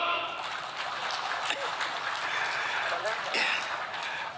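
A studio audience applauds comedian Cak Lontong, a steady wash of clapping at even loudness throughout, with a few faint voices and whoops rising above it.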